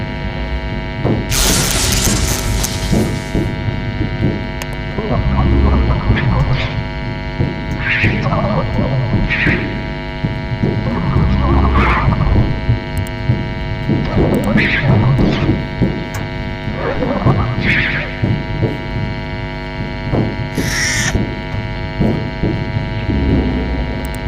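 An electric zap in the game FNAF Sister Location: a harsh buzzing burst over a constant mains-like electrical hum, with a second shorter crackle later on.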